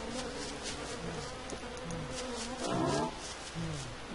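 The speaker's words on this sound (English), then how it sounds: "That was a red bee." A buzzing bee in the survival video game Don't Starve drones steadily at moderate volume over a busy game soundtrack, swelling briefly near the end.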